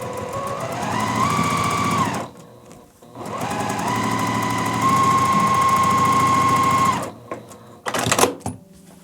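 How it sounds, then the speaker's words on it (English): A sewing machine runs in two long loud bursts, a close whirring motor with rapid needle chatter, stitching along the edges of a layer cake quilt, separated by a short pause and ending in brief handling clatter. "Now we can just take this to the machine and sew on all 4 edges."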